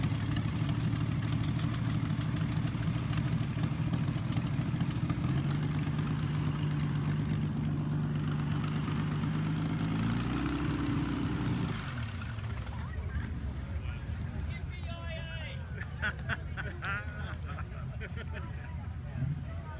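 A century-old vintage engine runs with a steady, deep rumbling drone that holds for about twelve seconds, then drops to a quieter, thinner running sound with faint clatter over it.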